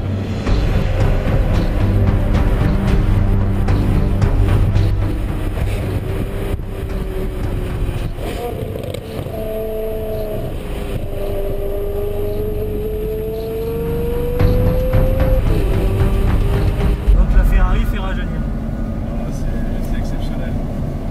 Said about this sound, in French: On arrive dans un tunnel, on rétrograde chaque fois juste avant le tunnel.